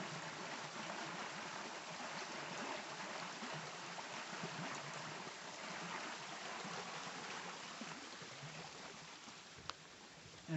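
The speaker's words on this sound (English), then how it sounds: "And the water's coming through." Water trickling and flowing through a wall into a stream at Fort Roberdeau, a soft, continuous outdoor rush heard from a short distance, faint and steady.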